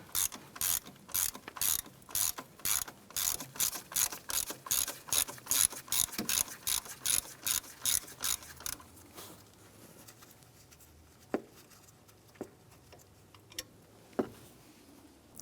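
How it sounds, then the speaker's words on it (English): Socket ratchet loosening a 10mm bolt on a 1994-2004 Chevrolet S-10: a fast, steady run of close, crisp ratcheting clicks for about nine seconds, then quiet with a few isolated metallic ticks. "Using a 10mm socket and ratchet, go ahead and loosen and remove this bolt right here."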